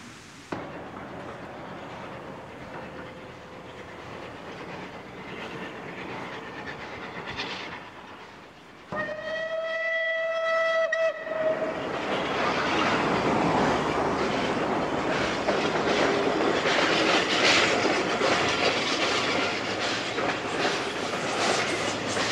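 Steam locomotive 257 Squadron running around a train at Harman's Cross on the Swanage line in the Purbeck Hills, a steady rolling rumble with a short whistle-like tone, then louder rushing hiss and clatter as it passes close.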